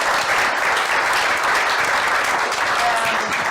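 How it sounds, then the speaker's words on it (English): A business meetup audience applauds its panel, a continuous broad roar of clapping from a full room with faint voices mixed in underneath. "I want a big round of applause for our panel."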